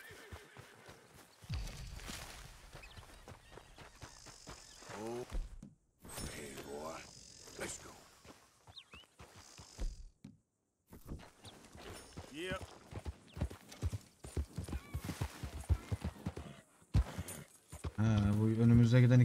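A horse in the Red Dead Redemption 2 video game neighs and its hooves clip-clop, with rhythmic hoofbeats and whinnies mixed among frequent stretches of people talking, plus game ambience and a few pauses.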